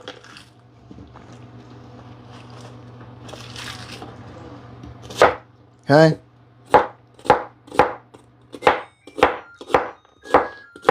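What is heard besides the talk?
chopping food with a knife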